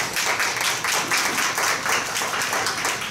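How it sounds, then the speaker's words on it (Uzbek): An audience in a hall breaks into applause, a dense, continuous wash of many hands clapping that holds steady and loud throughout, with no voices standing out. "butun zaldagilar olqish yog'dirdi"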